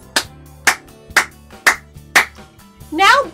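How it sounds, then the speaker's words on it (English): Five sharp hand claps at an even, steady beat, about half a second apart, close and loud, followed by a brief burst of singing or speech at the end. "Now I want you to clap with me, boys and girls."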